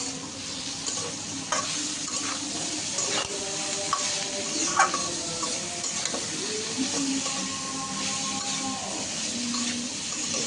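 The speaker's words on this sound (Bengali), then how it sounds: "এটাকে ভালোভাবে নেড়ে চেড়ে নিতে হবে।" A bitter gourd and potato fry being stirred in a pan, giving a steady close sizzle with repeated scraping and clinking of the spatula against the pan, with no talking.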